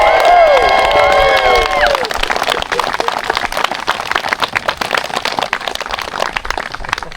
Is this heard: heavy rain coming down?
no